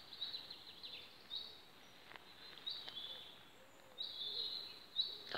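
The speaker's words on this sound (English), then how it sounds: "Silence, just birds." Faint, high bird chirps repeat sporadically in quiet woods during a hike, distant and sparse over soft background hiss.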